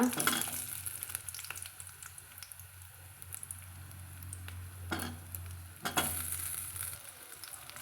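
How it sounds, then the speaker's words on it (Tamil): Cut potato sautéing in hot oil for a spicy mixed-vegetable chutney gives a soft, continuous sizzle with scraping stirs and spatula taps, moderately close and quiet, with no talking. "போட்டு நல்லா வதக்கி விட்டுக்கலாங்க"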